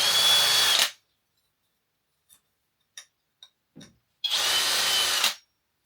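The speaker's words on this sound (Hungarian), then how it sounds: "egy nagyobb fúróval lesorjázni" A larger drill bit deburrs freshly drilled holes in a stainless steel plate, two loud bursts about a second each with a few faint clicks and scrapes in the quiet between.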